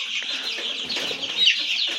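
Young Aseel chicks and hens on a farm keep up a dense, steady chorus of high peeping and soft clucking, fairly close and with no talking.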